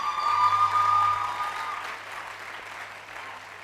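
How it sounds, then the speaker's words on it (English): Steady audience clapping at a physiotherapy profession induction ceremony for the graduating class of 2024, fairly loud at first, then gradually fading, with a faint tone running underneath. "Please clap for yourselves."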